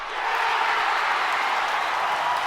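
A crowd sound effect played from a mixer swells in quickly and holds as an even, dense roar of cheering and applause, loud and continuous with no single voice standing out.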